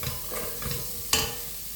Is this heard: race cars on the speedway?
no